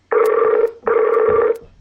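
A telephone rings in two long electronic bursts with a short gap between them, loud and close, with no voices over it.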